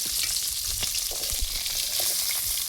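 Fish frying in oil in a pan, a steady close sizzle with small crackles and pops throughout, no voices.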